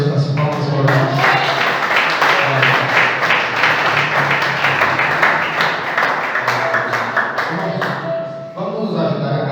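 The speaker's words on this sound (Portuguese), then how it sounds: "Receba o servo de Deus com as palmas e orações." A church congregation at a Friday worship service claps to welcome the preacher, loud and sustained dense applause that thins toward the end, with voices audible underneath.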